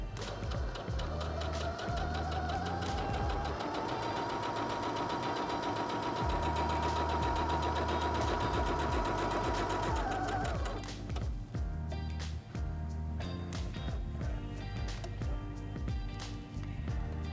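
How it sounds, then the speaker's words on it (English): A Singer HD6600C electric sewing machine runs a test stitch on fabric, a steady whirring hum with a rising motor whine that holds for about ten seconds, then stops, leaving faint clicks and handling noise. "step on the foot control to start sewing"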